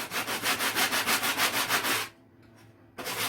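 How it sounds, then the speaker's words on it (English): Glued wood on a subwoofer box being sanded by hand, close rhythmic back-and-forth rubbing strokes for about two seconds, a brief quiet pause, then one more stroke. "I gotta roughen this up a little bit where the glue is."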